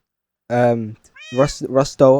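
Video game cat gives a few clear meows, drawn out and close, with short gaps between calls and nothing else underneath.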